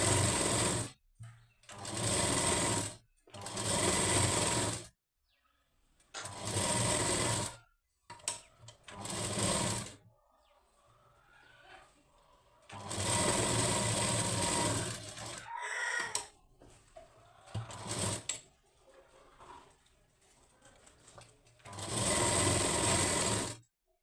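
A sewing machine stitches around a blouse lining in repeated loud bursts of a few seconds each, with quieter gaps of handling in between.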